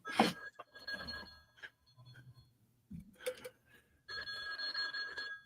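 A telephone rings indoors in short bursts of bright, tinny trilling, the last burst long and sustained, separated by quieter gaps with faint background noise.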